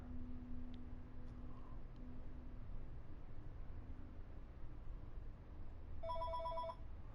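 A telephone rings once with an incoming call, a short bright electronic ring near the end, heard over a low steady hum and faint background noise.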